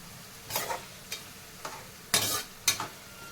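Potato chips deep fry in hot oil, giving several short bursts of sharp crackling sizzle separated by quieter gaps, close and fairly loud.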